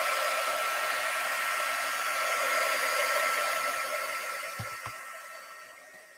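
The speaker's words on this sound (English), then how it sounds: "I'm going to take my dryer real quick" A hair dryer blows steady broadband air noise over wet paint, loud and continuous alone, easing slightly toward the end with a couple of faint low bumps.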